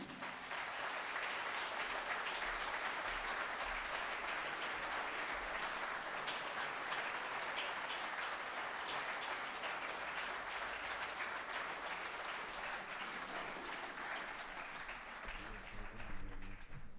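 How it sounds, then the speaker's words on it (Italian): An audience at a masterclass event gives a strong round of applause welcoming maestro Gianluca Campi, a sustained, even wash of clapping lasting the whole stretch, with voices mixed in. "io direi di accogliere con un forte applauso il maestro Gianluca Campi"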